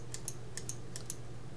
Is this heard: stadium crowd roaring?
no